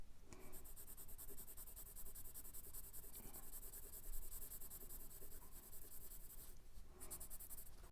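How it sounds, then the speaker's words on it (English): A 2B pencil scratches across paper in continuous soft strokes, close and quiet, with brief pauses between lines of drawing. "For example, the 2B pencil."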